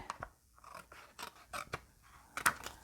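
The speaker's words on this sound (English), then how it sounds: "I cut on this score line to get rid of both of those pieces, and then I cut on this score line" Scissors cutting cardstock along a score line for a Halloween paper craft, a few separate crisp snips and short crunching cuts at close range in a quiet room.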